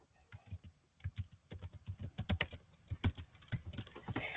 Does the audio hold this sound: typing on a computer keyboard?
yes